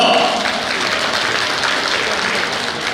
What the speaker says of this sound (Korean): 격려 박수 한번 부탁드립니다.